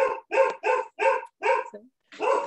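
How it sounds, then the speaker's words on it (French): A dog barks six times in quick, loud, evenly spaced bursts with a short yip between, close to the microphone, with no talking over it. "On entend pas mal le chien"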